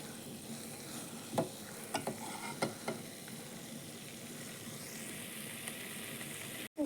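Okra (lady's finger) sautéing in a pan, a soft steady sizzle with a few light scraping strokes of the spatula near the start, quiet and close with no talking.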